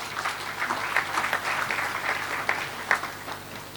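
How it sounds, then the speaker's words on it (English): Steady applause from an audience at the opening ceremony of a high-level African counter-terrorism meeting, a continuous mid-level patter of many hands lasting throughout with a few sharper claps standing out. "Please, let's give a round of applause to the media."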